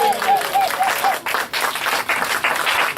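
A church congregation at an anniversary service applauds and cheers in a dense, sustained wash of clapping that fills the whole hall. A brief voice cry rises over it at the start.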